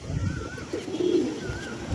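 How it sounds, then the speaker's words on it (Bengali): Domestic pigeons at a home loft, one of them a closed-tail pigeon, cooing softly nearby in low murmuring phrases, with a faint higher chirp drifting in twice. "এই হচ্ছে পায়রা"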